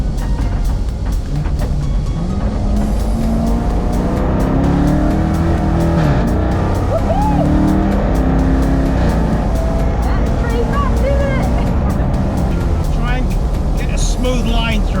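A race car braking and cornering at Cadwell Park circuit, engine note rising and falling with gear changes and brief tyre noise, loud and continuous, with a driving instructor talking over it throughout.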